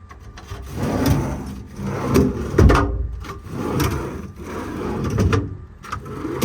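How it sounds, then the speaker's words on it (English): Wide and skinny drawers in the service body of a 2016 Kenworth T370 truck slide open and shut repeatedly, giving rough rumbling and scraping strokes in an uneven rhythm, close by with no talking. "there's going to be one final set of drawers, a wide set of drawers"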